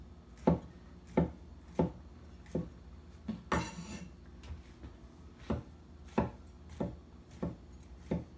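A knife chops potatoes on a cutting board in steady, evenly spaced thuds, about a dozen close sharp strikes with one brief scraping slide partway through, and no talking.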